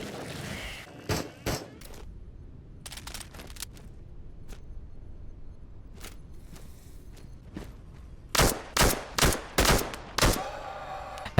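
A Makarov pistol and a starter shotgun fire in the VR shooter Into The Radius, with a few scattered sharp shots and handling clicks, then a quick run of five loud, evenly spaced blasts near the end.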